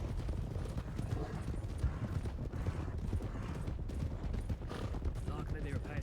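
Horses' hooves clip-clopping in the Western video game Red Dead (RedM), a steady rhythmic trot continuing throughout under game ambience, with voices talking over it.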